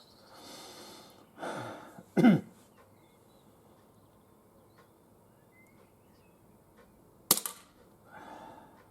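An ASG CZ Shadow 2 airsoft pistol fired at a pellet trap from ten metres, two sharp isolated snaps several seconds apart, with soft breathing and rustle between.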